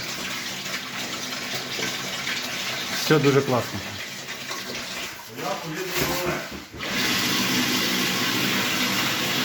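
Water rushes from a tap fed by a deep well pump in a steady hiss that surges and sputters midway, then resumes strongly, while people talk nearby.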